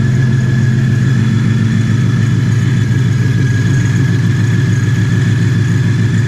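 An ESS G3R supercharged Ford Shelby GT350 engine runs steadily just after its first startup: a loud, even, close idle with a thin constant whine over the rumble, and no voices.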